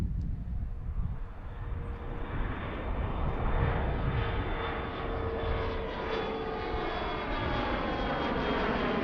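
A CRJ900 jet airliner rolls down the runway on takeoff at Philadelphia, its engines a loud, steady, broadband roar that builds and holds throughout, with a faint high whine riding on top.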